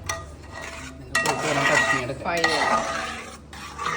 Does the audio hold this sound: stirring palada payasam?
yes